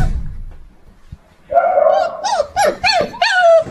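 A dog barks and whimpers close by, starting with a low thump and then giving a run of high, drawn-out yelping whines and short barks in quick succession, loud and alone.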